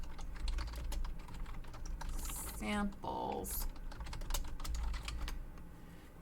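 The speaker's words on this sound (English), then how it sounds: "my keyboard sounds different" Someone types on a computer keyboard with a steady patter of close, crisp key clicks. A brief spoken word cuts in partway through.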